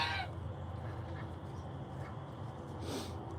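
Backyard chickens settling down at dusk give a few soft, scattered clucks, one near the start and another near the end. The calls sit faintly over a steady outdoor background hum.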